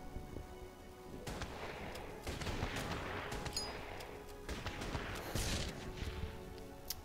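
Anti-aircraft guns firing at aircraft in the wargame Order of Battle: Pacific, a dense, continuous spread of overlapping shots and distant booms with flak-like bursts, moderately loud and sustained throughout, with no talking.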